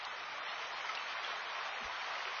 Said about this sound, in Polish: No to taki mieliśmy strumień za oknem.